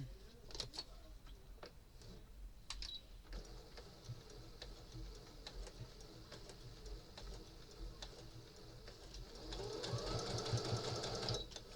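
A sewing machine hums and stitches steadily at close range, speeding up and growing louder toward the end, with faint ticking clicks throughout.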